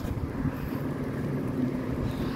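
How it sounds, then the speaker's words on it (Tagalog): Steady low rumbling wind buffets the microphone, a continuous dull roar with slight gusting swells, no talking. "Yan, mahangin na naman."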